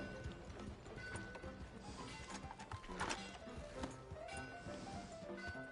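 Horse hooves clip-clop in the video game Red Dead Redemption 2, a steady rhythmic trot of moderate loudness mixed with game ambience and a few knocks.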